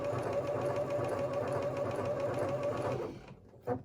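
A sewing machine runs in a steady close mechanical whir while stitching a neckband onto a shirt, stopping abruptly near the end with one faint click after.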